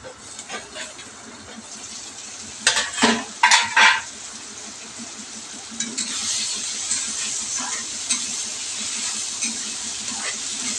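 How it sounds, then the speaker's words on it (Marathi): Onions fry in a pan with a constant broadband sizzle that thickens in the second half, with a few utensil clanks and a person talking over it. "कांदा तळायला जरा वेळ लागतो."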